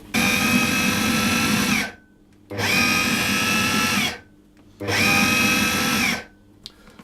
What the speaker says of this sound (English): you just pulse those together until everything, till the butter has broken down and you have a sort of breadcrumb-like texture